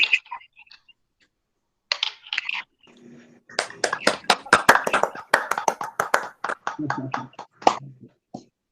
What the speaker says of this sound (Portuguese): Parabéns, Ediane. Palmas.